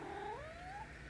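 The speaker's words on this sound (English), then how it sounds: "What a good cat you are." A single close cat meow with a sliding, wavering pitch, short and clear against a quiet indoor background.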